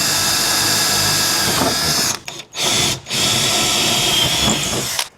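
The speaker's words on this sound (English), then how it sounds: "I'll drill some big old holes through there" A power drill whirs loudly and steadily, drilling holes for a rear drawer setup in a 105 Series Land Cruiser, briefly cutting out twice near the middle before spinning up again, then stopping at the end.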